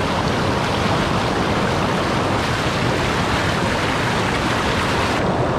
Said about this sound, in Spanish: Cascada de Saturnia, las termas de Saturnia.